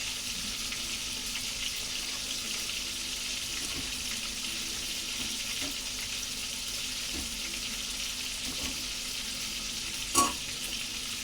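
Chicken frying in a pan sizzles with a steady, dense hiss throughout, with faint stirring clinks and a brief sharper clatter near the end, no voices.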